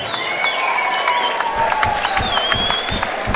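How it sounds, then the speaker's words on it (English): Spectators at a fight event applaud and cheer as fighters come to the centre of the ring, a steady wash of crowd clapping with whistles running through it. "As they come, make a noise that sounds like clapping, please."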